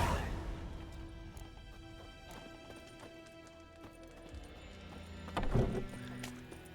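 Roach the horse in The Witcher 3: Wild Hunt, with quiet rhythmic clip-clop of hooves and a brief whinny near the end, fairly faint and without talk.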